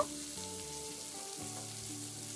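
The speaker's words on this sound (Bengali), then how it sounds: "উল্টে পাল্টে কাঁকরোলটাকে বেশ হালকা লালচে রং ধরা পর্যন্ত এটাকে ভেজে নেব" Spiny gourd (kakrol) slices fry in oil over a medium flame, giving a soft continuous sizzle for a couple of seconds under a faint tonal hum.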